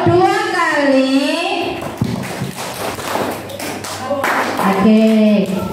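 Children at a Maulid Nabi religious gathering clap on a count, with sharp hand claps and thuds around the middle and someone speaking before and after.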